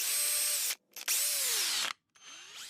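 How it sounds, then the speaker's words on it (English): A drill-powered paint sprayer (TrueCoat Cordless Connect) whirs at high pitch in bursts, stopping briefly twice before starting again, close and steady. "drill-powered paint sprayer available at Lowe's"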